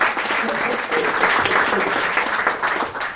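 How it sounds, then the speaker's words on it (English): An audience at a business presentation bursts into steady, full applause, many people clapping close by with some voices mixed into the clapping. "We should clap. We should clap."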